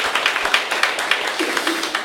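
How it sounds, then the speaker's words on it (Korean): An audience at a morning business meeting gives a round of applause to thank a speaker, steady scattered clapping from a modest crowd with faint voices underneath. "우리 박예란 스타마스터님께 큰 박수 부탁드리겠습니다"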